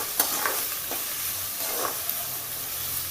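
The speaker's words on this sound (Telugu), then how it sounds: "ఉల్లిపాయ ముక్కలు బ్రౌన్ కలర్లో వచ్చేలాగా వేపుకుందాం." Onion and green chilli pieces frying until brown in a home kitchen pan: a continuous close sizzle with a few soft stirring scrapes.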